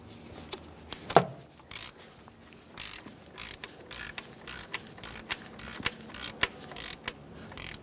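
Ratcheting torque wrench tightening intake manifold bolts to 13 foot-pounds on a 2011-2020 Toyota Sienna 3.5L V6, with repeated sharp clicks and creaks spread over several seconds, close and fairly quiet.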